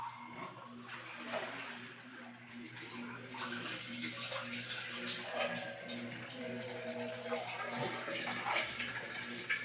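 Water poured into a cooking pot while making Filipino pork caldereta, a steady running and splashing wash under kitchen background noise and faint tonal hum, continuous through the whole stretch.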